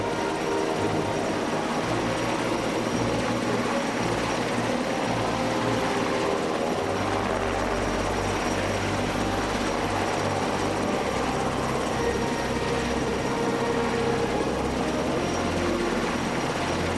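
A hovering rescue helicopter gives a loud, continuous rotor and engine drone that holds steady throughout, with no talking.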